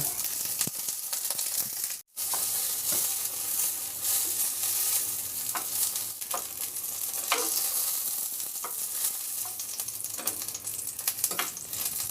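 Sliced eggplant frying in oil in a pan, a dense continuous sizzle with scattered pops and crackles, close and steady for the whole stretch apart from one brief drop near the start.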